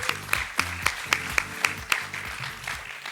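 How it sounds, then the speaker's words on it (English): An audience at a stage presentation claps, with sharp, fairly regular claps about four per second that stay moderately close and then fade slightly toward the end. "Big round of applause, guys."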